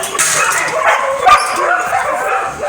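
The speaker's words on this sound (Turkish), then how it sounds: "Burada köpekler çok havlıyor." Several dogs bark and yip excitedly in a garden, loud and close, in quick overlapping bursts with a whimpering edge.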